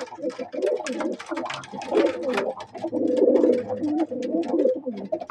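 Several pigeons in a loft coo in overlapping, continuous low rolling calls, close and fairly loud, with a dense chorus throughout and no talk.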